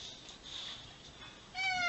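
A pet cat meows indoors, a clear rising-and-falling call near the end of the clip after a quieter stretch of room noise.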